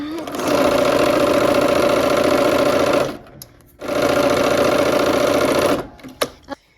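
A sewing machine stitching a quilt runs loud and close in two long continuous runs with a brief pause between them, then stops with a few light clicks.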